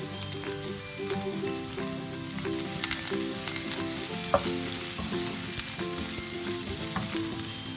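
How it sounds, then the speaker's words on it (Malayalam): Onion, green chilies and curry leaves sauté in a pan for Kerala fish molly, a steady close sizzle and crackle running throughout with occasional stirring scrapes. "പിന്നെ കുറച്ച് കറിവേപ്പിലയും കൂടി ചേർത്ത് ഇതൊന്ന് നന്നായിട്ട് വഴറ്റിയെടുക്കാം."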